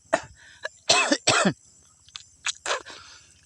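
Several harsh coughs and throat clearings from one person, close to the microphone, coming in short bursts with brief pauses between them.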